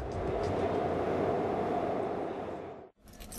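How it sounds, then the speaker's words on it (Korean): A driverless metro train runs in unmanned mode, heard from inside as a loud steady rumble and roar that dips sharply near the end before resuming. "지금 우리 열차는 지금 DL 모드 무인 운전 모드로 지금 운행을 실시하고 있고요"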